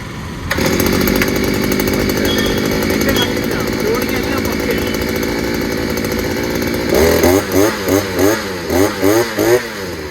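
An ibell grass cutter's small engine starts and runs loud and steady at close range, then revs up and down in a series of rhythmic bursts near the end.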